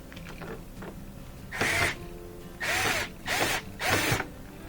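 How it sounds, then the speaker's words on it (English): A power screwdriver loosens a Phillips head screw on the rear boot ring of a Whirlpool front-loading washer, whirring in four short close bursts separated by brief pauses. "I have to loosen up this screw, which appears to be Phillips head."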